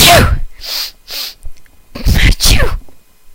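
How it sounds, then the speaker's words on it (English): A voice acts out an exaggerated sneeze for a cook or waitress character in a Second Life food safety inspection game, a loud vocal "achoo" with sharp breathy bursts, up close and alone. "Achoo!"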